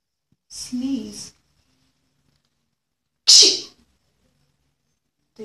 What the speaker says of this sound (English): This is sneezing.